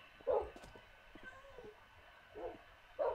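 Minecraft wolves make short dog-like yips and whimpers in the video game, a few brief bursts spaced across the moment with quieter sounds between.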